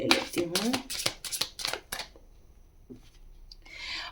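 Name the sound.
cards being cut and drawn in a card reading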